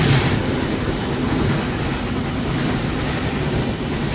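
Kutojaya Selatan passenger train rolling steadily along the rails, a continuous loud rumble of wheels and carriage noise heard from inside with faint clatter throughout and no talking.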